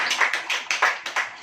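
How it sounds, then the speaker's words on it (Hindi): Audience clapping at a church sermon, a short burst of rhythmic claps at a steady beat, fairly close and moderately loud with no talking over it. "ताली बजाइए।"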